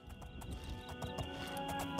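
A horse's hooves clip-clop in a steady trotting rhythm in the video game Oblivion, fairly quiet and close, with repeated even footfalls.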